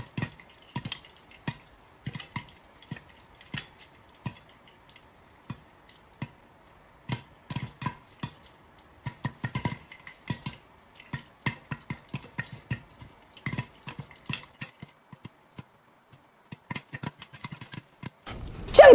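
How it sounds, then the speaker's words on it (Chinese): Popcorn kernels pop in a pot while being made into caramel popcorn: scattered sharp pops, sparse at first and then quickening into a dense, irregular patter, with a louder clatter at the very end. "很快的，你就会听到爆米花开始跳舞的声音。"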